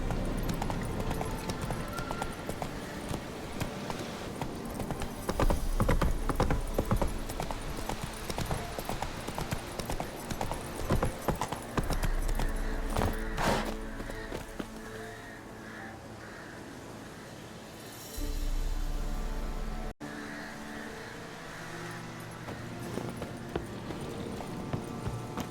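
Roach the horse gallops in The Witcher 3, with a fast, rhythmic run of hoofbeats on the ground under a continuous game soundscape and brief faint voices.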